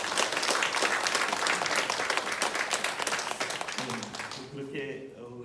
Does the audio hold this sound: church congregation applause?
yes